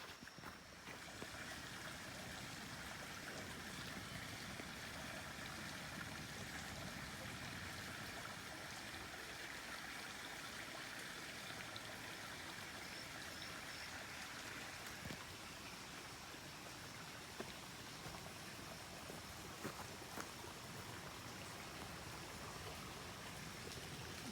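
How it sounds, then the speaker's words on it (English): Small clear brook along a forest trail flowing steadily, a soft continuous trickle and babble heard alone and fairly quiet, with occasional faint ticks. "Nice little brook."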